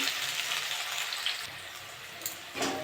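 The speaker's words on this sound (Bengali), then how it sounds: "পেঁয়াজটা একটু ভেজে নিয়েছি।" Onion and chili fry in a pan over already-toasted cumin, giving a steady, close sizzle that eases slightly partway through.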